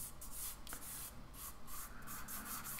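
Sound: finger blending soft pastel on paper

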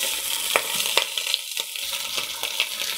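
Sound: green chili peppers pan-frying over low heat

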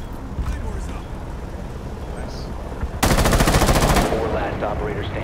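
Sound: gunfire in Rainbow Six Siege video game

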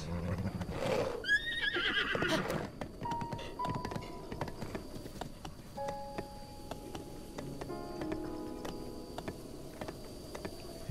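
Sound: horse neighing and hooves clip-clopping

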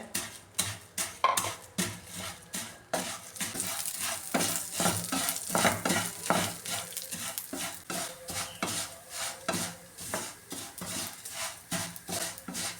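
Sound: vermicelli frying in ghee

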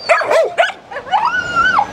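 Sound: dog barking

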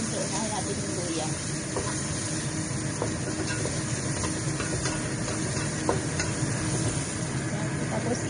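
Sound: onions sizzling in a noisy frying pan

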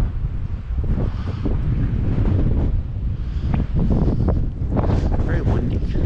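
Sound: wind

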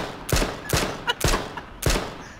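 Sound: gunshot from Magnum revolver in H1Z1 video game

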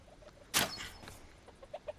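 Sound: chicken clucking in VR video game A Township Tale

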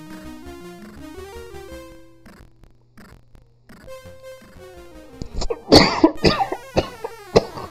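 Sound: coughing

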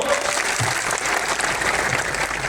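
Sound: audience applause at a rally

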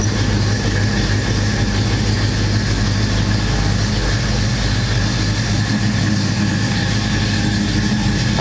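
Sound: 1972 Oldsmobile Cutlass 442 engine running

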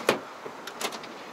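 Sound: car power door closing after pressing button

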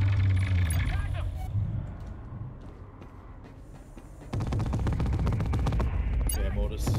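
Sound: mortar fire in a video game (GTFO Rundown 6)

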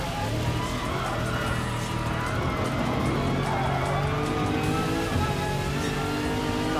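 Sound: car engine at full throttle in Gran Turismo Sport video game

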